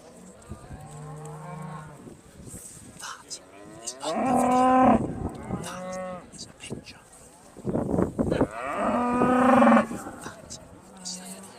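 Cattle moo loudly in long repeated calls at the Balmoral Show, an agricultural livestock show with Aberdeen Angus and beef Shorthorn judging, with a ring announcer's amplified voice talking between and under the calls.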